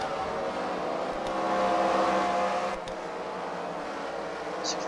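Wrecker car lapping traffic jammer cars at a Fight Night race at The Freedom Factory: a steady, somewhat distant engine roar from several cars that swells briefly midway, then settles back to a constant drone.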